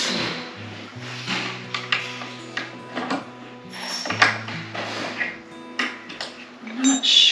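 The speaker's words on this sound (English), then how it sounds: "now we're going to tighten all of these back up" Fasteners are tightened back up on a tiny home: scattered metallic clicks, pings and ratcheting clinks come at irregular intervals over a low steady hum, fairly close by.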